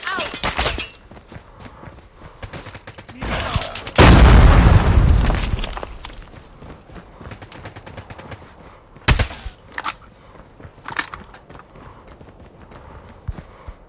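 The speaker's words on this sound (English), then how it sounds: "Grenade out." In a video game, a loud, close grenade explosion booms and rumbles for about two seconds. Scattered sharp gunshots crack before and after it, with voices talking over the gunfire.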